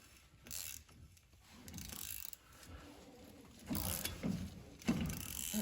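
Ratchet fitted with a 3/8 socket turning a bolt near the axle of a 2006 Chevy Silverado, giving quiet intermittent clicking bursts with a few louder clacks toward the end.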